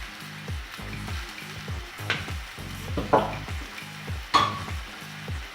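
Apple cider vinegar and maple syrup sauce being stirred in a hot pan, a close, steady sizzle under repeated scraping and clinks of a utensil against the pan, with no speech.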